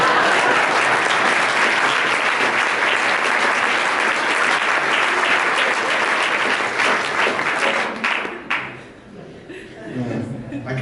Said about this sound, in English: You guys can clap if you want.